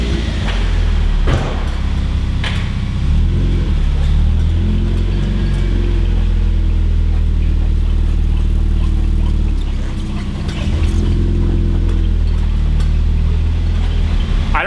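A lifted Mazda Miata on mud tires backs up slowly, its engine a steady low idle rumble close by throughout, with a brief dip partway and no talking.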